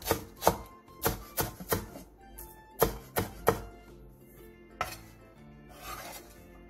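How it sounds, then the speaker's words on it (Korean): A knife cuts a green onion on a board in sharp, close knocks, about a dozen uneven chops with short pauses, quiet and without talk. "대파 1개를 어슷썰게 해주세요."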